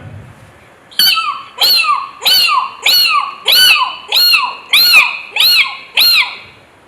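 A mimicry performer at a state school arts festival mimics a kitten with nine short, high mews in quick, even succession, close and clear.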